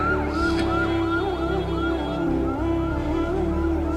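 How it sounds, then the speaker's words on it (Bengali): An ambulance siren wails in a steady rising and falling pattern over a continuous low rumble, loud and close throughout with no pause. "ডানে কি অ্যাম্বুলেন্স যাচ্ছে"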